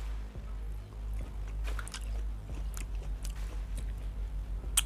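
Steamed mussels being eaten close up, with soft, quiet chewing and wet squishing bites repeating in a steady rhythm.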